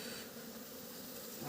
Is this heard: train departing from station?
no